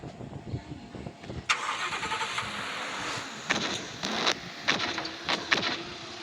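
A car engine in a Roblox game cranks and catches, a mid-pitched motor starting with a sudden onset followed by a steady drone and a few revving bursts, alone with no talk.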